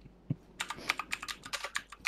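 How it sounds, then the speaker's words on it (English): Quick bursts of clicking keystrokes on a computer keyboard while typing a message during a DayZ session, soft and close, in an irregular patter after a single early tap. "I need to type a message to Prah."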